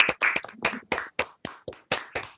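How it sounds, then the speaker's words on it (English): At a graduation event, a few people clap for the presenters in a sparse, irregular series of about a dozen distinct, close hand claps with short gaps between them. "applause for everyone that did the presentation today"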